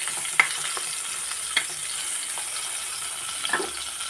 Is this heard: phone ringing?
no